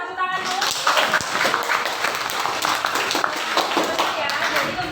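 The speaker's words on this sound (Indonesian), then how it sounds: "Coba tepuk tangan dulu." A group of students in a classroom claps together, loud and close, with a cluster of sharp hand claps under some talking voices, lasting a few seconds.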